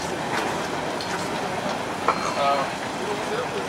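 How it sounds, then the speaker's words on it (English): A train rolls past at a distance, a steady rumbling roar with faint wheel squeals and clatter, while people talk nearby at an outdoor gathering in Maplehurst. "wait till the train goes by"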